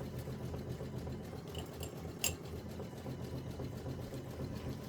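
A sewing machine stitches a quilt block, hemming around a vase outline, a soft steady mechanical hum with a faint rhythmic texture and one brief sharp click partway through.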